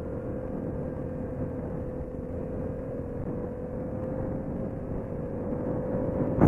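A Yamaha FZ-07 motorcycle engine while riding in second gear, a steady low droning rumble with constant wind noise, holding an even pitch and swelling slightly at the very end.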